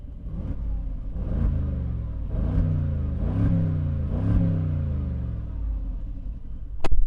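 The engine of a 2021 Mercedes-Benz G550 revs hard four times in a row, each a loud rising roar that falls back to a deep idle rumble. A sharp knock follows near the end.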